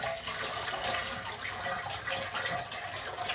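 A toilet with a siphon-action flush, just repaired after its tank overflowed, flushing with a continuous close rush and gurgle of water that stays loud and steady throughout.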